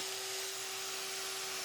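A bandsaw in a home woodworking shop runs with a loud, steady motor whine and a bright, constant hum, with no change in pitch or level throughout.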